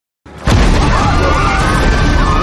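Heavy machinery bursts through during a raid in a film, a sudden loud crashing boom that stays as a dense, roaring smash with grinding, screeching layers after a brief quiet lead-in.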